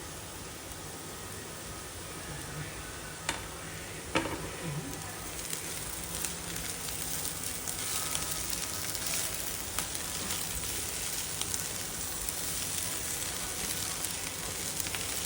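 Veg stuffing for veg pockets fries in a pan on the stove, giving a steady, close sizzle with faint crackles throughout and no talking.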